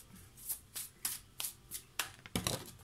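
Tarot cards are shuffled and drawn by hand, giving a run of crisp, close riffling flicks at a steady, even rhythm, each one short and sharp, ending in a louder, denser flurry, with no talking.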